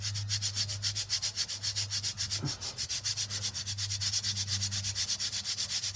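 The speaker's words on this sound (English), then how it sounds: "get our sieve out and just put a gentle layer over the top" Sand sifted through a sieve over a casting pattern in a metal-casting mould, a continuous rhythmic scraping and rubbing shake that repeats quickly and evenly at close range.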